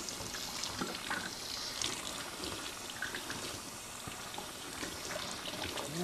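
Cold tap water runs steadily from a faucet over skin in a home chemistry lab, a continuous close splashing stream with no speech.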